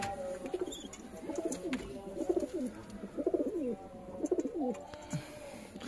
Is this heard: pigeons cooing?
yes